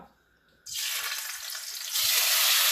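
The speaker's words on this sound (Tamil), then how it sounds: "shrimp வந்து நானே சூடான எண்ணெயில போட போறேன்" Shrimp dropped into hot coconut oil for Singapore noodles burst into a loud, steady sizzle that starts abruptly and grows slightly louder as the frying continues, with no talking.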